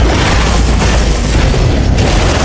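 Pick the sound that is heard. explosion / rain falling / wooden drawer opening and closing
explosion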